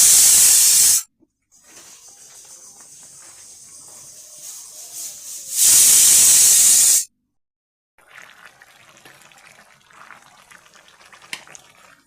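Prawns go into bubbling hot curry, giving two loud bursts of sharp hissing sizzle separated by quieter simmering and bubbling, with no talk.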